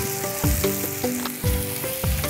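Spice paste sizzling steadily in a hot pan while cooking lemon hilsa fish, with periodic stirring scrapes and a tonal hum running underneath, fairly close and continuous.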